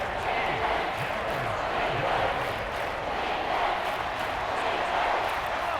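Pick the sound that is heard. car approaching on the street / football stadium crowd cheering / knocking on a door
football stadium crowd cheering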